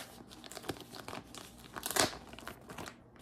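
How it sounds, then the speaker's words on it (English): Crinkling and tearing of a black bag being peeled open to reveal a remastered vinyl record of Wish You Were Here; soft, close plastic crackles and rustles rise to a sharper rip near the middle, then fade. "it comes in this weird kind of black bag, so I'm just going to kind of peel this open for you."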